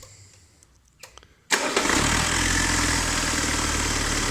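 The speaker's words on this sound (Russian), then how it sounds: "Пол оборота завелся." A car engine that had sat in long storage cranks briefly and fires up after a quiet moment with a few faint clicks, then settles into a loud, steady running roar close by.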